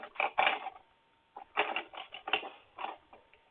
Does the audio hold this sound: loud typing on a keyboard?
yes